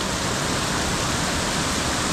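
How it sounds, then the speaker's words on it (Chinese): The Qiaxi waterfall, running with fairly low water, pours into a canyon in Qiaxi National Forest Park in the Tianshan mountains, giving a steady, close, broadband roar with no voices. "恰西瀑布"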